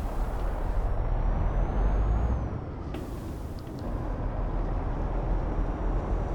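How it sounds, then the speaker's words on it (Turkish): A MAN truck starting up in Euro Truck Simulator 2 gives a steady, loud low engine rumble. A brief hiss like an air release comes midway, then the engine idles on, with no talking. "Hemen aracımızı çalıştıralım. Man aracımız yeni kasa."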